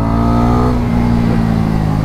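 Bajaj Pulsar NS400 motorcycle engine, 400cc, pulling hard under acceleration, a loud, steady close-up drone with strong harmonics that shift in pitch partway through, with no voices.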